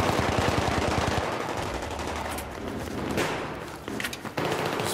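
Rapid automatic gunfire from a rifle fitted with an ACOG scope in Battlefield 3, a loud close burst of fast shots followed by scattered bursts and impacts.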